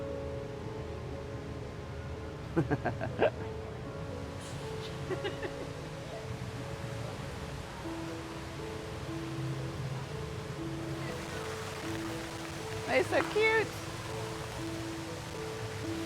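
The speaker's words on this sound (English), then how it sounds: "It's called the HSBC Rain Vortex so it's sponsored by a bank. The world's tallest indoor waterfall." HSBC Rain Vortex, the tallest indoor waterfall, at Singapore's airport: a steady, broad rushing roar of falling water fills the space, with people talking briefly and a few short clattering sounds over it.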